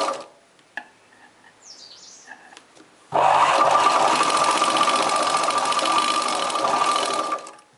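After a few quiet handling clicks, an electric sewing machine starts up and runs loudly and steadily with a whirring hum while stitching the neck of a churidar top, then stops.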